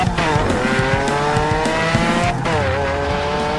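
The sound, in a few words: green monster truck driving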